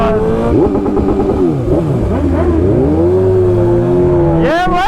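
Several motorcycles at a bike meet rev and rumble loudly close by, engine pitch rising and falling in overlapping sweeps, with voices mixed in.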